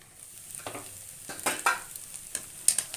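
A veg and non-veg omelette fries in a pan, giving a soft, uneven sizzle broken by occasional scrapes and light clinks from stirring, fairly quiet and close.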